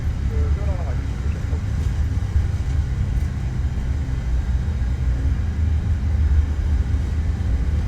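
Low steady roar of CRJ900 jet engines during a takeoff roll in a flight simulator, a dense rumble that holds for several seconds with no voices over it.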